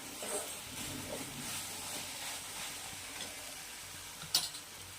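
Spinach bhaji (palak) is stirred in a pan while it sizzles softly, with quiet scraping sweeps of the spoon and one sharper clink near the end, all faint and without talk.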